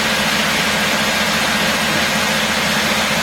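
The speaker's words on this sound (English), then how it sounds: "That's some turbine." A fire truck engine at Munich Airport's fire department runs steadily, a loud, close, continuous low rumble with broadband roar and no break across the whole stretch.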